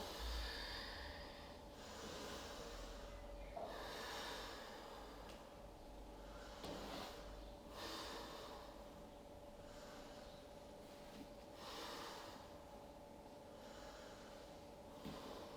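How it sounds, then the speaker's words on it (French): Slow, steady yoga breathing, with audible inhales and exhales repeating in a calm rhythm, close and soft over a faint constant hum. "j'inspire en bas et j'expire en haut"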